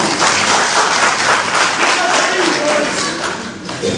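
Crowd applause at a political people's assembly rally in Kano for a vice presidential candidate, a dense, steady wash of clapping lasting throughout, with crowd voices mixed in.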